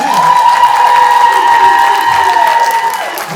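Audience at a live comedy showcase clapping and cheering loudly and continuously, with a sustained whooping voice riding over the crowd noise.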